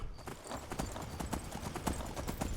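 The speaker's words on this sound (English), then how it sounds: "I like the fact that these horses are faster." Horse hooves galloping in Skyrim, a rapid clip-clop rhythm close and steady across the clip, with a faint low rumble beneath.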